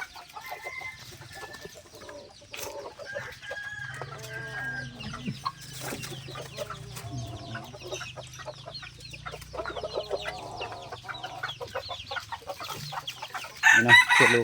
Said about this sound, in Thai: นี่เนาะคือลูกไก่